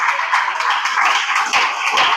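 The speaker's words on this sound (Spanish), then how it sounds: "Si usted lo cree, aplauda para el Señor." A church congregation claps during a Sunday service, with dense, continuous applause filling the short moment alongside a faint voice.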